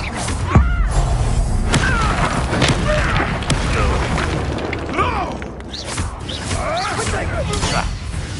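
A Confringo fire spell bursts in Hogwarts Legacy, a booming blast amid fizzing magic effects and crashing debris during a busy duel, with voices talking over the fight.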